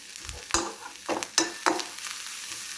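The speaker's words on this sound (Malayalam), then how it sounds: "ഇതെല്ലാം ഒന്ന് മിക്സ് ചെയ്യുന്നു നന്നായിട്ട്" A few scraping strokes of a utensil stirring food with ghee in a pan, irregular and close, over a faint background sizzle.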